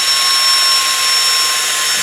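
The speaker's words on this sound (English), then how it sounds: "And we're going to go ahead and drill that." A power drill bores a shallow recess into the throttle housing area of a Yamaha FZ-09 handlebar, running as a loud, steady, unbroken whine at close range with no talk over it.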